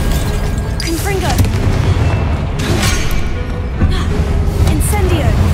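Spell explosions in Hogwarts Legacy during a combat trial, repeated booming blasts and bursts over a heavy low rumble, loud and close, with a voice shouting spell names between them.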